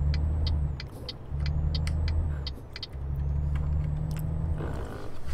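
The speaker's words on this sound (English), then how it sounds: "Great big lorry." A big lorry rolls past on a road in a driving video game, a loud steady engine rumble that swells and dips with faint light ticking above it and no talk.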